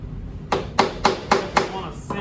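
A riveting hammer drives a flush rivet into a countersink in metal, striking five evenly spaced, sharp metallic blows about a quarter second apart, close and loud, with a sixth starting at the end.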